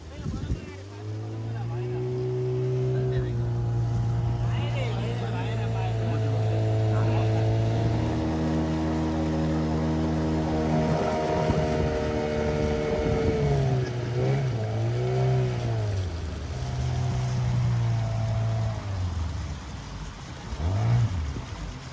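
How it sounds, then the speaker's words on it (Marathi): A boat's engine drones and shifts pitch on a short ride off Malvan, Maharashtra, with wind and water noise around it and people talking over the motor throughout. "मालवणमधली आपली पहिली बोट राईड निखिलसाठी आहे"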